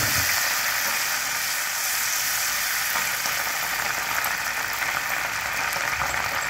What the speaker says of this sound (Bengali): আদাটা খুব সামান্যই ফ্রাই করবে, একটু জল দিচ্ছি যাতে বেশি জ্বলে না যায়